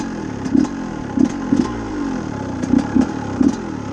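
A motorcycle engine idles steadily nearby with a low rumble, broken by a few light clattering taps at uneven intervals.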